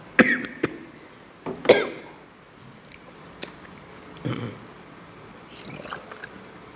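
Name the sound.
preacher coughing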